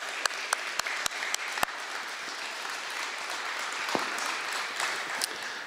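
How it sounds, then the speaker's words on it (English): Audience applause for a panel at the close of a public evening talk on transportation costs in Unama'ki Cape Breton, a steady wash of clapping with a few sharper claps standing out, sustained throughout at moderate level with no voices. "Give them a big round of applause."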